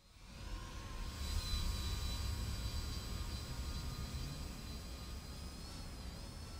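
A jet aircraft engine without afterburner in the War Thunder video game drones steadily with a rising whine and a low rumble, fairly quiet and continuous with no talk.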